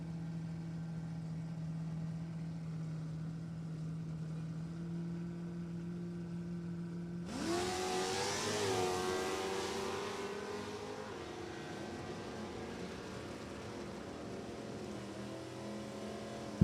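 At a G-Stock automatic drag race, a black 305 Nova and a green 327 Camaro idle at a steady drone, then launch with a sudden rising engine roar. The roar fades gradually into a distant hum, and no voices are heard.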